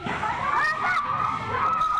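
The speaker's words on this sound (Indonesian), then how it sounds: "Warga panik dan berteriak histeris." Residents panicking and screaming as a pickup truck burns in front of a house, a dense, continuous wall of overlapping shouts and shrill cries from a crowd, loud and sustained throughout.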